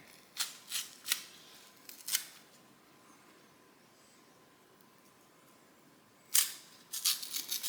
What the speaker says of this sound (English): So you're just going to peel off the skin.